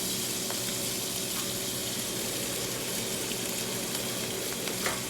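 Garlic sizzles and fries steadily in a hot pan while being browned for a gluten-free spaghetti dish, a continuous close crackling hiss with a few small pops and no talking.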